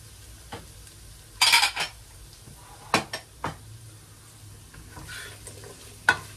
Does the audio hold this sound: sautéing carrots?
yes